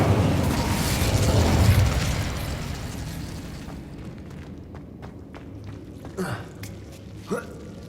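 Incendio fire spell in Hogwarts Legacy, a loud, roaring burst of flame that swells and then fades into a quieter crackling tail, followed by a couple of short sharp sounds.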